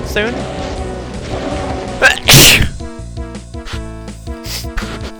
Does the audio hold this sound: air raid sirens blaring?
no